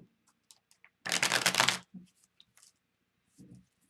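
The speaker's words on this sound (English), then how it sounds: "All right, one good shuffle." A tarot card deck is shuffled in one brief, loud riffling burst of flapping cards, set among quiet handling rustles and soft taps before and after.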